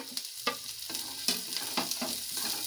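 Onion, ginger, garlic and green chili fry in a pan over medium heat, sizzling steadily with repeated stirring scrapes, close and fairly quiet.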